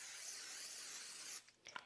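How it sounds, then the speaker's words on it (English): Cooking spray hisses steadily into a 13 by 9 baking dish for over a second, a close, fairly soft aerosol burst, then stops and leaves a few faint clicks and small handling noises. "you're going to put a little bit of cooking spray all along the bottom"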